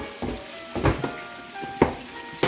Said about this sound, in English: we're gonna wait for that butter to melt